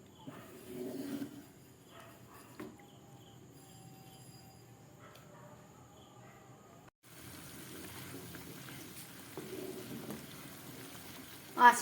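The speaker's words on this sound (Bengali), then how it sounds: "ঝোলটা ফুটে উঠেছে।" Vegetable curry gravy simmering in a pan over medium heat, a soft low bubbling and gentle liquid burble that runs steadily, fairly faint and close, with a brief louder stir near the end.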